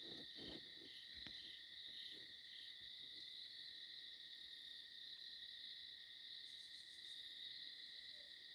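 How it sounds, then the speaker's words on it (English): An owl hoots at night in a few soft, low calls early on, faint and distant over a steady bed of loud chirping crickets and insects. "Can you hear that owl?"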